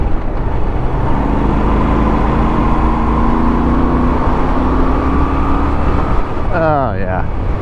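A 2022 Moto Guzzi V7 Stone motorcycle engine drones steadily while riding, with a constant rumble and wind rush and slowly rising harmonics as revs climb; a brief voice is heard near the end.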